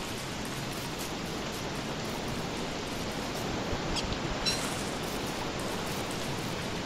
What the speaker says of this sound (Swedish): Jäklar vad det regnar.